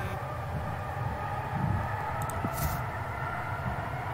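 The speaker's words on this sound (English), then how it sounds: "Oh shoot, back at the train." Train ambience in the video game Eliza: a steady low rumble of a carriage in motion with a faint higher hum, continuous and moderately loud, with a few soft clicks and no talking.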